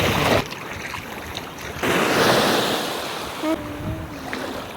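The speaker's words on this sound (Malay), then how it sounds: "Ombak." Rushing surf and breaking waves fill the scene, with gusts of wind buffeting the microphone; a brief tonal squeal cuts in near the end.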